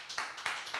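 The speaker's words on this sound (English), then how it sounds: "Applause to Phil." A few sharp hand claps in quick succession welcome a speaker at a conference panel, brief and fairly close.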